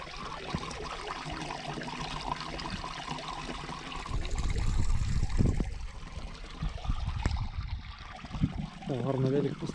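Spring water trickles and splashes steadily from a spout at the Shpaniv spring, close by, with a louder gush midway and faint background noise.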